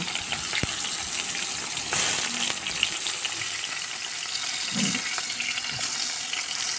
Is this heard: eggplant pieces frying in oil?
yes